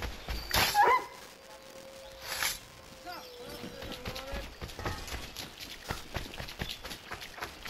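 A dog barking in the video game Assassin's Creed III, a few sharp barks mixed with hoofbeats and combat noise while someone talks over the action.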